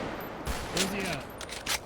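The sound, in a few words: gunshots in a police roleplay video game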